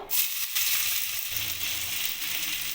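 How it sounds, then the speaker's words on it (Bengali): Chopped garlic hits hot soybean frying oil with a steady, bright hiss that swells as it goes in and keeps sizzling evenly throughout, close up with no voices. "সয়াবিন ভাজার তেলের মধ্যেই আমি এখানে রসুন যে কুচি করে রেখে দিয়েছিলাম সেটা আমি দিয়ে দেবো"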